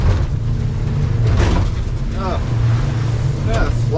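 A fishing boat heading in offshore pounds through rough, sloppy waves, with a continuous loud engine rumble and splashing thumps under voices talking.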